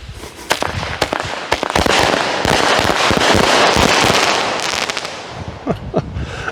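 A rapid barrage from a small 200-gram Ice Cube firework cake by Fox Fireworks, dense crackling bursts and pops layered into a continuous roar, easing off into scattered final reports.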